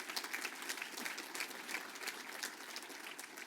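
At an alumni awards night, an audience applauds honoree Alan Goff with dense, steady clapping that holds an even level throughout the short stretch, with no voices over it.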